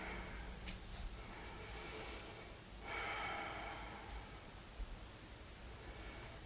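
Slow, audible breaths drawn and released in and out during a yoga pose, soft airy exhales rising above a constant noisy hiss, with a brief snort-like puff near the start.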